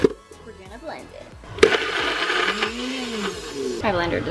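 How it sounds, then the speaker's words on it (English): A blender labors through thick dog food for puppy treats, its motor starting sharply partway through and then running with a strained, straining whir, with speech around it. "My blender does not like this."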